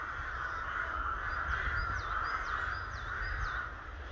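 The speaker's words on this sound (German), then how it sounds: "Da oben in diesen Bäumen, die sind voll mit Krähen." Crows in trees along the Emme river give a series of repeated caws at a moderate distance above a steady outdoor hum, with no talk.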